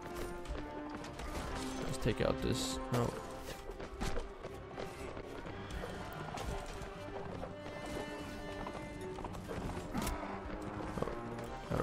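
Horse hooves clip-clopping from many cavalry troops in the Mount & Blade Warband video game, busy overlapping hoofbeats with battle clatter, under a voice.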